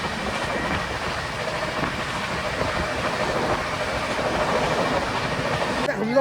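A train rolls past near Panipat railway station, a steady rumbling roar of wheels and carriages with faint rhythmic clatter, sustained and close, with a sharp jolt right at the end.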